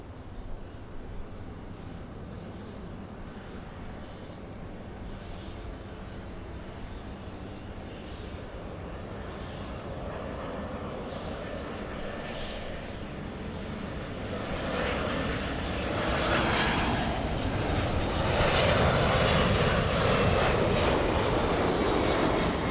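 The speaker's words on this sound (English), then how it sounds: "It's going to be quad jet heavy here in the north." A Lufthansa quad-engine heavy jet approaching, its broad engine roar starting faint and steadily growing louder and closer over about twenty seconds, with no voices.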